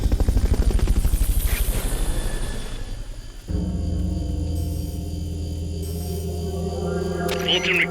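A Fulton recovery helicopter in Metal Gear Solid: Peace Walker beats with loud, rapid rotor chopping at first, then drops to a steadier, quieter drone with game effects.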